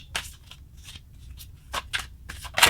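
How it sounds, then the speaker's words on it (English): Tarot cards are shuffled by hand in a quiet ASMR setting. Several soft, crisp riffling bursts come in an irregular rhythm, close and fairly quiet, with no talking. "then I'll shuffle until I feel intuitively that it's right"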